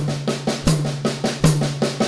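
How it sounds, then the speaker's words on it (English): Drum hits on a high tom in a steady pulse, about three per second, with a soft kick drum keeping quarter-note time underneath. Close and clear, no voices. "high tom"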